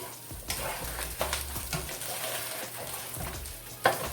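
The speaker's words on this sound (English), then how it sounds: "That's how it sounds when it starts frying. That's the sound you want." Food sizzles and crackles in a hot pan while cooking spaghetti sauce, with scraping stirs and a few sharp pops over a steady frying hiss.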